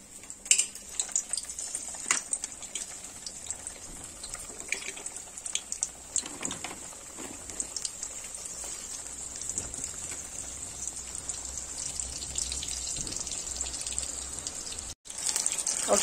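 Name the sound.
frozen momos deep frying in oil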